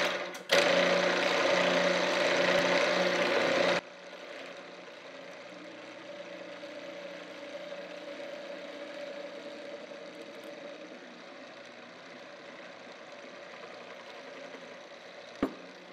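An old mill head converted into a tapping station, its spindle running at 600 RPM while tapping, gives a loud, steady mechanical whir for the first few seconds, then drops to a quieter continuous hum with a brief click near the end.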